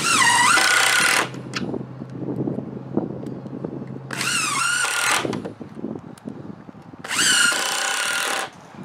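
A power drill drives 1.5 inch decking screws into wood for a small greenhouse build, three loud whirring bursts of about a second each, separated by quieter handling noises.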